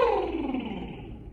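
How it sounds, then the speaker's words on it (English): A single lip trill vocal exercise from a choir singing lesson, a buzzing, fluttering voiced tone gliding downward in pitch over about a second, fairly loud and close, alone without talk. "If you can, do a lip trill for me."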